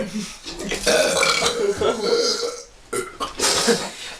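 Loud, long belches during a burping challenge, one drawn-out burp after another with a brief gap near the end, close up, with people laughing and reacting around them.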